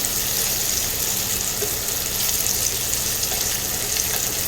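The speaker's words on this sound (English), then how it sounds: "So we're gonna let these sausages cook a little bit and brown" Sausages fry and brown in a hot pan with a steady, dense sizzle that stays loud and even throughout, close up with no talking.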